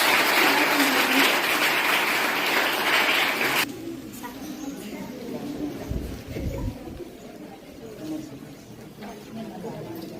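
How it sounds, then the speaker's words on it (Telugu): Children clap loudly at a school event at ZPHS Vaddepalli in Varni mandal, Nizamabad. The dense applause fills the first few seconds, then cuts off abruptly, leaving quieter background with voices talking. "పిల్లలు వాళ్ళకి గట్టిగా చప్పట్లతో"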